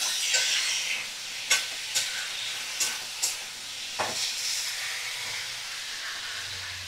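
Mixed vegetables and spices sauté over medium flame in a pan for a vegetable fish curry, a soft sizzle broken by several sharp scraping stirs and clinks spaced a second or so apart, close and without talk.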